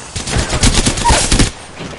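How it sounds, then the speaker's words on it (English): Rapid automatic gunfire in a PS4 shooter video game, a dense close burst of shots lasting about a second and a half before cutting off. "Firing!"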